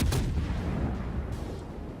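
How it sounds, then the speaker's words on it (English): A warship's gun salvo in the World of Warships game, a booming burst of artillery fire at the start followed by a rumbling decay. "It was an alright salvo."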